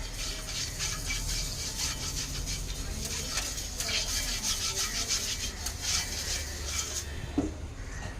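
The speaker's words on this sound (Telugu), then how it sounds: "సో బాగా రుద్దుతున్నాను అనమాట ఉల్లిపాయ రుద్దితే దోశలు బాగా వస్తాయి" A cut onion rubs back and forth across a hot dosa griddle, giving a continuous, even scraping and rubbing sound that is close and moderately loud.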